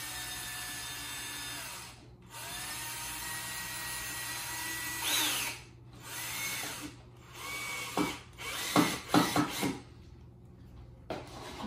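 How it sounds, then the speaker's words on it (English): A drill tightening a screw into a drywall anchor while fixing a loose closet shelf or towel rack: a fairly quiet motor whine runs in several spurts with brief stops, then a few short knocks and clicks near the end. "Now when you tighten this down, it will pinch that back behind."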